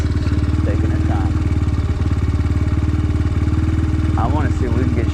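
A Trailmaster TM33 Xpro Chinese dirt bike engine chugs steadily nearby during an off-road ride on dry ground, a loud and constant throb while people talk over it.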